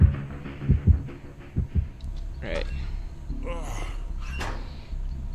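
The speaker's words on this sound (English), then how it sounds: "I'll wait for the heartbeats to stop." The killer's heartbeat terror radius in Dead by Daylight throbs in low, paired thumps during the first couple of seconds, then fades under game noise and faint voice sounds.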